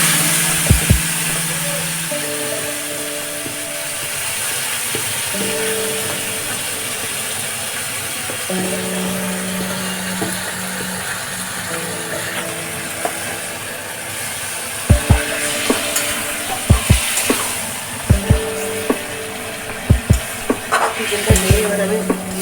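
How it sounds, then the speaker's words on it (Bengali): A whole chicken frying with spices in a pan, a continuous close sizzle with scraping stirs, and a run of sharp spatula knocks against the pan near the end, no one talking. "চিকেনটা দিয়ে এবার আমি মশলাটা কষিয়ে নেবো।"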